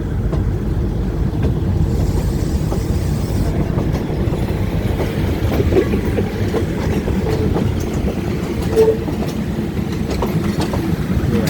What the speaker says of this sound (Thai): บนขบวนรถด่วน 75 กรุงเทพปลายทางหนองคายนะครับ ออกจากหัวลำโพงช้าอยู่ประมาณ 7 นาทีฮะ